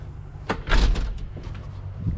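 A newly bought door lock being turned and latched, a few close clicks and a thunk of the door with light room noise behind.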